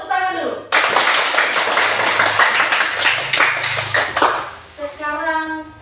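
Schoolchildren in a classroom break into sudden loud clapping that lasts a few seconds and then fades, with a teacher's voice before and children's voices after.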